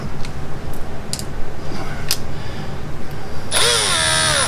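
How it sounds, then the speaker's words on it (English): A power drill with a tiny bit bores a small pilot hole for self-tapping screws while a Ram 3500 is being fitted with wheel ring lights. A few sharp clicks come first, then a loud whining spin-up from the drill near the end. "Just drilling a small pilot hole so I'm not fighting with the self tappers"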